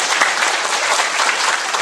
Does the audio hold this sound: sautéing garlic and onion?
no